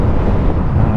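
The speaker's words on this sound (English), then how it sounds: "it's windy as anything, gosh." Strong wind roars over the microphone of a motorcycle on a long-distance rally, a loud continuous low buffeting rumble with no break.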